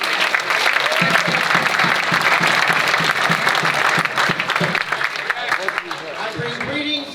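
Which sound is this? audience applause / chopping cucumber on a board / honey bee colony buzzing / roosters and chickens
audience applause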